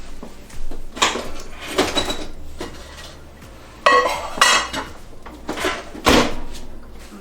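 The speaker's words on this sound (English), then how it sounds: "we're going to put this plate in the microwave and heat it up for 1 minute" A plate is handled and set inside a microwave in a home kitchen, giving a series of close clinks, knocks and a door clunk at irregular intervals with no talking.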